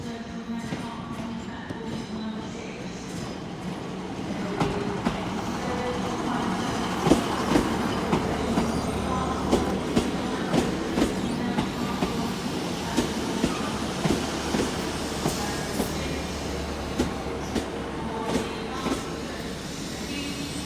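A Great Western Railway passenger service to Paignton rolls into Exeter St Davids station, wheels clicking rhythmically over rail joints beneath a low rumble, moderately distant on the platform, with faint chatter in the background.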